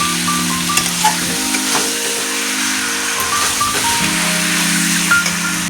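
Mutton with chili and ginger paste is sautéed in a pan, making a loud, continuous sizzle with occasional stirring sounds over a low steady hum.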